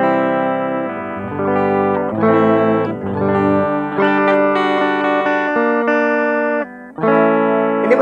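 Clean electric guitar played through a V8 Plus soundcard with Guitar Link, strummed chords ringing out loud and alone for about eight seconds, with a brief gap near the end before playing resumes.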